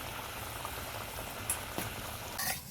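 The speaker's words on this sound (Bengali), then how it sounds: "দেখুন বন্ধুরা চাটনিটা কি সুন্দর ফুটে উঠেছে" Amra (hog plum) chutney bubbling at a steady simmer in a pan, a continuous close hiss of boiling with a few sharper pops and spatters near the end, no voices.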